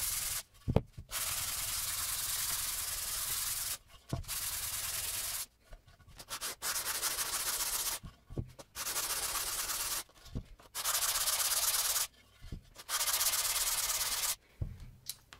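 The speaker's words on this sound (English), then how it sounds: "Remember to sand with the grain and sand the entire length of the cutting board," Hand sanding of a wooden cutting board with 220 grit sandpaper along the grain, long steady rasping strokes of about two seconds each, separated by brief pauses, close and quiet.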